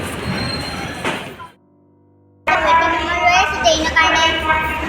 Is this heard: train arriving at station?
yes